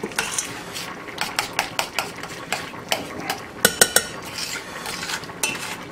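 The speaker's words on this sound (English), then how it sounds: "Get it all stirred in here pretty good." Metal utensil clinks and scrapes against a pan while onions are stirred over heat, a run of light rhythmic taps and clatters, close and moderately loud with no talking.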